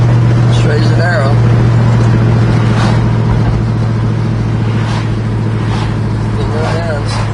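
A 1970 Pontiac GTO cruises steadily down the road, its engine giving a constant low hum with road and wind noise throughout, while someone talks over it.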